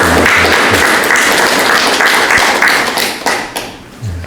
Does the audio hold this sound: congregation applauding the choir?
yes